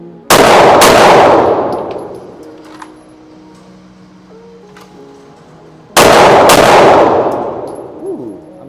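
Two sharp, very loud revolver shots crack at an outdoor shooting range several seconds apart, each followed by a long ringing decay, with faint metallic clinks of reloading in between.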